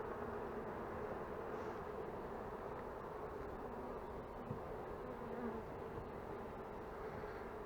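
Honeybees droning around an opened brood hive during an inspection, a steady dense buzz that holds constant throughout, fairly quiet with no talking.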